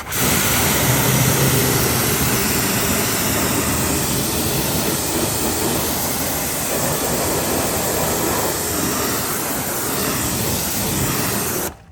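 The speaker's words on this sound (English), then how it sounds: "let's go ahead and rinse that now. Again, sticking with that 25-degree nozzle." A pressure washer with a 25-degree nozzle blasts water into a car wheel well, a loud, continuous broadband hiss and roar that holds steady for the whole stretch and cuts off at the end, with no talking.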